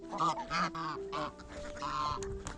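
A flock of geese honks repeatedly and noisily at morning feeding time, overlapping calls close by with quieter duck and chicken sounds mixed in.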